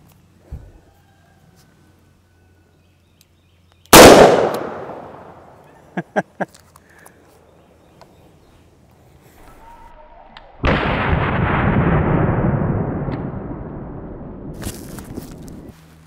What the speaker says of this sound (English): And I'm shooting it out of this 627 V-Comp.